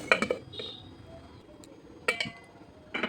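A lid lifted off a cooking pot of rice-flour dough in hot water, metallic clinks and clatters in short clusters at the start, middle and end, close and without speech.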